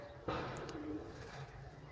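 A golden pigeon coos softly nearby, a low gentle call after a short sharp sound, in an otherwise quiet setting.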